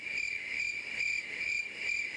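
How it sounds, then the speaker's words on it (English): Crickets chirping in a steady, pulsing trill that swells and eases in regular waves, used as a quiet sound effect with nothing else heard. "Crickets."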